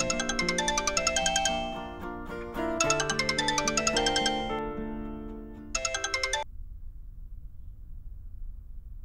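A phone ringtone for an incoming call plays loud and alone, a bright repeating chiming melody that cycles twice before cutting off, leaving a quiet background.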